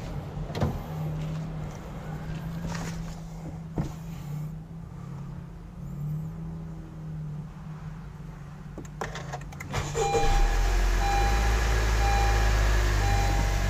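Honda Civic FC with a 1.5 turbo engine, quiet cabin sounds and a few clicks before the engine cranks and starts around ten seconds, then settles into a steady low idle hum with a faint chime.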